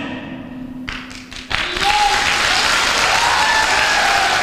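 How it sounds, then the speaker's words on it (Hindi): A short burst of thumps and a faint tone give way to a sudden, loud crowd applause that starts about a third of the way in and holds as dense sustained clapping, with faint voices underneath. "आप किसी के लिए ताली मत बजाओ"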